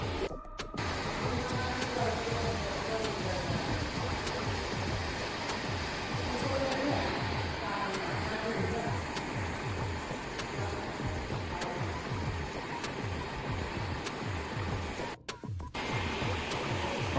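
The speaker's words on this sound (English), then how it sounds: "Okay, now guys, this is the Techno gym treadmill." A Technogym treadmill runs with a steady mechanical hum and whirring belt, overlaid by regular, evenly spaced soft thuds that carry on at a constant pace.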